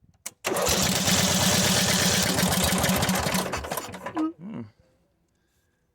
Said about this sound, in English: I'm gonna crank it and watch right here and see if we get anything out of that hose.